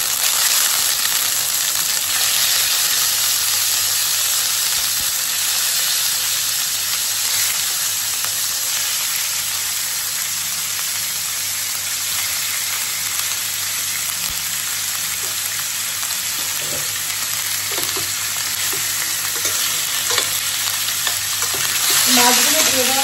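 Fish sizzles steadily in a pan with whole garam masala and ginger paste, a dense, even crackle of hot oil lasting the whole stretch with faint stirring and no talk.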